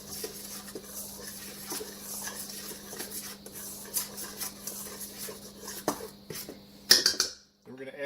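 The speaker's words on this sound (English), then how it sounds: "I'm going to stir all that together." A spoon stirs bread dough ingredients, flour with salt and flaxseed, in a bowl, making scraping and clinking against the bowl with a sharper clatter near the end, all close by.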